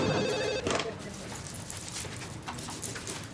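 A telephone bell rings in a home for about half a second, loud and close, then gives way to indistinct room noise and movement.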